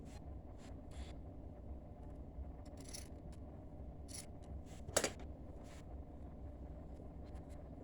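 Scissors snip a small piece of material to cover the drainage hole in a plastic bottle used as a plant pot, giving quiet, intermittent crisp cuts with one sharper snap midway over low background noise.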